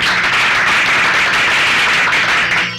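A wedding crowd bursts into steady, dense clapping, loud and sustained throughout without pause, applauding in consent.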